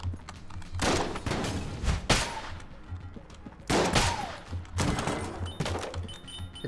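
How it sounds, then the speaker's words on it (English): Shotgun blasts from the game Enter the Gungeon: several broad, punchy booms with rattling tails, spaced irregularly over a low rhythmic game soundtrack, loud and close. "the shotgun blast was much tighter, which is about what I'd expect"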